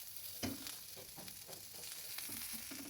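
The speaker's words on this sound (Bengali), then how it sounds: "ঢেকে ঢেকে উচ্ছেটাকে ভাজছি" Bitter gourd frying in a covered pan, a steady soft sizzle with occasional stirring scrapes and clatters, close and moderately quiet, with no talking.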